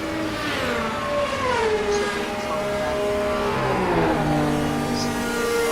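Race car engines in a racing video game whine past on the track, their rising and falling pitch sweeping by in quick succession with layered harmonic drones at steady volume.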